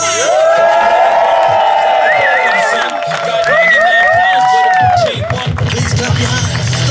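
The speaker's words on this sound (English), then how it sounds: "Please clap your hands, stomp your feet, whistle and go crazy for the main man himself" Wedding guests at a wedding celebration cheer, whoop and whistle loudly and continuously, with shrill whistles rising over dense crowd noise and shouting throughout.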